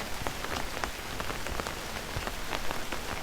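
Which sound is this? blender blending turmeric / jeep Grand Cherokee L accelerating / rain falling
rain falling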